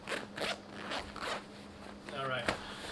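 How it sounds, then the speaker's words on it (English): A zipper is pulled open on the small bottom pouch of a flatpack bag, giving quick close rasping strokes in short bursts, faint and near, with a voice speaking softly under it. "Let's go ahead and try to unzipper that first"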